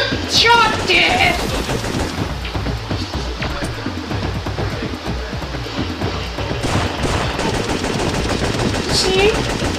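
Gunfire in Syphon Filter 3, rapid continuous bursts of shots rattling throughout, with a few game sound effects and faint voices mixed in.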